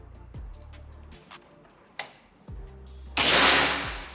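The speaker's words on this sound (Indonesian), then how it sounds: "Lanjut tembakan yang keempat." A single shot from a Ghost Warrior Durallium air rifle with a 70 barrel during a range test. It follows a run of faint clicks and dull knocks, then bursts out sharp and close before tailing off.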